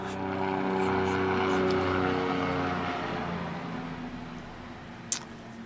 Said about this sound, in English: I'm going to let this helicopter go by.